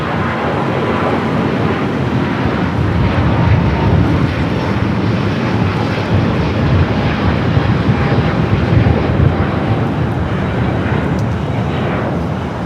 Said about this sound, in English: There is Speedbird, the A380 Super, making its way to the gates of Tom Bradley